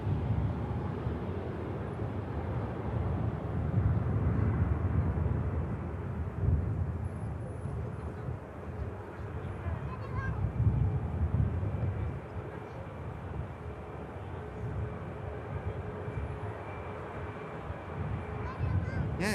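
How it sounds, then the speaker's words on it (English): An EasyJet Airbus A321 lands at an airport, its broad low engine roar and rumble steady and fairly distant throughout, with a few surges, while a voice talks over it. "Just touching down EasyJet 321 from Gerba"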